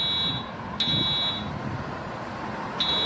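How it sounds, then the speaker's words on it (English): Simulated Edwards EST 757 fire alarm at a bus area, giving short high electronic tones that start, stop and recur over steady background rumble of traffic. "this is a simulated alarm video"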